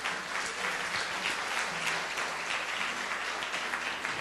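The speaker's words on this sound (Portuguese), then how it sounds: "Você pode aplaudir o Senhor, amém?" A church congregation applauds steadily for several seconds, a dense, sustained wash of clapping filling the room with no speech over it.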